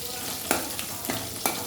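Ingredients for sambar frying in a pan, a steady sizzle stirred with a few sharp scrapes at regular intervals, close and moderately loud, with no talking.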